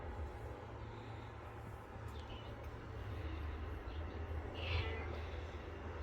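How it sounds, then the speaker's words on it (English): A house cat meows a few times against a steady low background rumble, the calls fairly faint and spaced out over several seconds. "Look at this cat."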